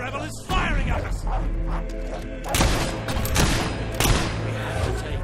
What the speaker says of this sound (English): Damned rebel is firing at us!